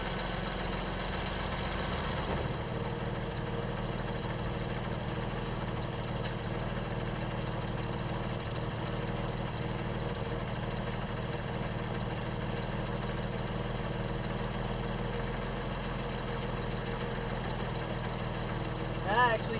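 Vehicle engine idling steadily after a transmission fluid and filter change, a low continuous rumble with a constant hum throughout and a faint clink near the end.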